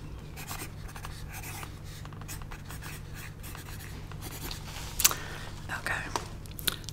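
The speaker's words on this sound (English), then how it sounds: "Let me write that down." Pen scratching on paper while measurements are jotted down, soft and close, with a faint whispering voice underneath and a small tap near the end.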